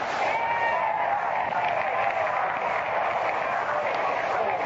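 A baseball stadium crowd applauds a Cincinnati batter stepping up first, a dense, steady roar of clapping and cheering that holds evenly throughout.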